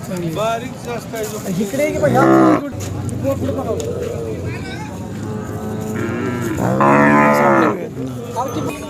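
Khillar bulls at a cattle market in Sangola give several loud, drawn-out moos, nearby and alone between bursts, while people talk steadily over the market bustle.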